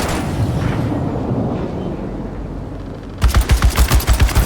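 Mounted guns in the PC game Unknown 9: Awakening hammer at incoming enemies, a dense roar of loud, continuous fire giving way to a rapid, evenly spaced burst of heavy booming shots near the end.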